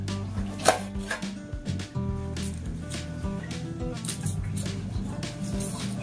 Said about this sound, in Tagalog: Hiwa muna tayo ng sibuyas.